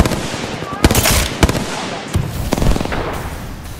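Gunfire in Apex Legends: loud, close cracking shots in several sharp bursts over a dense, noisy battle background.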